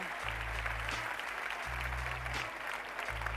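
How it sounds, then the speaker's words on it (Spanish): Steady applause from a crowd at a sports awards ceremony fills the room, a continuous wash of clapping, with a low electronic hum pulsing underneath. "Una foto y un fuerte aplauso."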